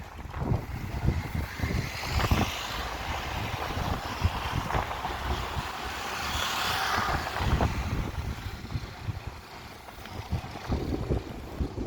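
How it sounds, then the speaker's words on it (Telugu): Strong wind at the Pamban bridge near Rameswaram buffets the microphone in rough, uneven gusts, a loud rumbling roar with no talking. "ఈ గాలికి నా ఫోన్ కూడా కదిలిపోతుంది"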